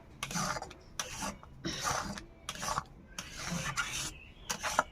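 Mango pulp mixed with salt and chili powder is stirred in a pan, a series of soft rhythmic scraping and rubbing strokes, close and quiet, with no talking.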